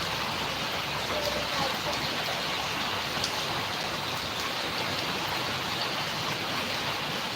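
Heavy rain pours down steadily during an overnight downpour, a dense, continuous hiss of water falling on surfaces that stays loud and even throughout with no pauses.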